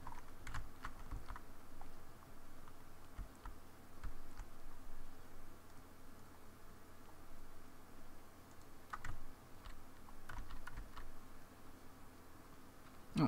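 Keyboard typing and mouse clicks sound steadily throughout a session of the strategy game Hearts of Iron IV, close and fairly quiet over a low background hum, with brief bursts of faster keystrokes.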